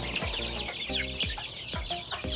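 Several chickens cluck in short repeated bursts close by outdoors on a rainy, cold day, with a steady chirping background and no talking.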